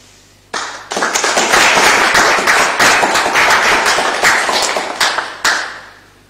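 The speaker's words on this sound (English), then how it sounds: "Friends, let's celebrate this new beginning in the usual manner by applauding." A church congregation at a service of linkage bursts into applause. The clapping starts abruptly, swells into a loud, dense patter for about five seconds, then thins out with a final few claps.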